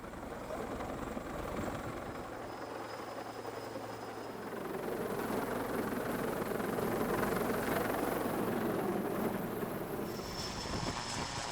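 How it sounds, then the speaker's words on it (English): A Sea Lynx helicopter hovers over the sea during a Bundeswehr sea-survival rescue drill, with a continuous broad rotor and engine roar that swells slightly midway and carries no speech. "waiting for the helicopter to pull the participants out of the water with a winch"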